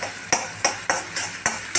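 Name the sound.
stirring onion and green chillies frying in a pan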